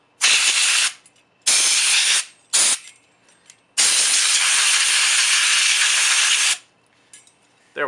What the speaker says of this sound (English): Now, the fan's dirty, so I'm going to spray it out.